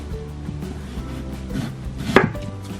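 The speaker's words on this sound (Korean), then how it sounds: "이제 먹기 좋게 채 썰어주시면 되는데" A knife cuts radish into thin julienne strips on a cutting board, a few soft taps building to one sharp, close chop near the end, with no talking.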